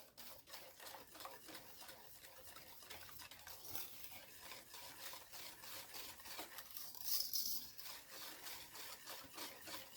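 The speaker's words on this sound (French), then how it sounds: "Je mélange le tout." Waffle batter being mixed by hand with a spatula in a bowl, a steady soft scraping and rubbing with rhythmic strokes, close and fairly quiet throughout.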